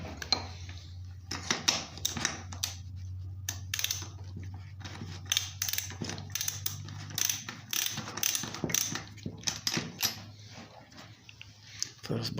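Plastic cover being fitted back onto a Fieldmann chainsaw by hand after the spark plug is replaced, giving close, irregular clicks, snaps and rattles of plastic parts over a low steady hum, with speech in places.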